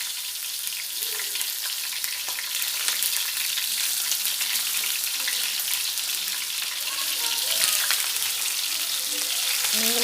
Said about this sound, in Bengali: আমি এখন একটা একটা করে তেলে ভেজে নেব। দুই পিঠ ভালো করে দুই পিঠ ভেজে নেব।